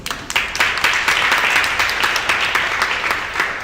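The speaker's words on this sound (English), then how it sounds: "big applause, please" An audience at a design night event bursts into dense, sustained applause, many hands clapping at once, loud and even throughout.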